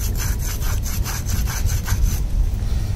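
Worn Shimano M447 bicycle brake pads rubbed back and forth on a hard surface to scuff them, a close, loud rhythmic scraping of about ten strokes in quick succession.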